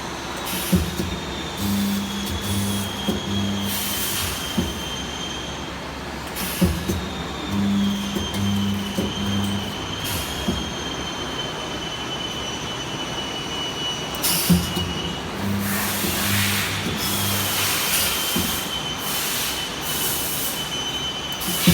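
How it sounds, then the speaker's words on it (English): A semi-automatic condenser welding machine working on steel wire gives a loud, continuous mechanical clatter and grinding with repeating low hums, a high steady whine and sharp periodic bursts, all without any talk. "Now I will make a quick demonstrations of the welding work"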